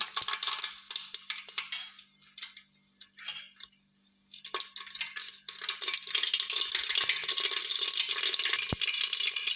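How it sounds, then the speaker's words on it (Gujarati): Rapid crackling and popping of mustard seeds in hot oil, dense bursts that ease briefly midway then return louder and steadier, close by with no voices. "તો આપણી રાઈ બધી જ સરખી રીતે ફૂટી રહી છે"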